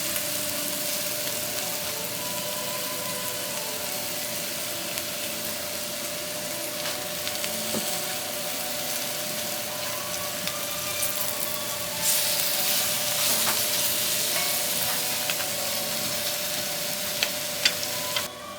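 Leeks and chard sizzle steadily in a pan, a continuous close hiss and crackle with no voices, brightening slightly toward the end.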